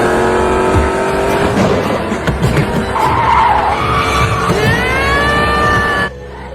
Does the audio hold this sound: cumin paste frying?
no